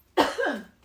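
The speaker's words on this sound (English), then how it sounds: "I hate the coughing when I'm trying to cook or something." A single sharp cough, close and fairly loud, with a rough throaty tail trailing off over about half a second.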